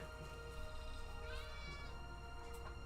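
A cat meows in the Chrono Trigger video game, one drawn-out cry rising over steady game music and effects.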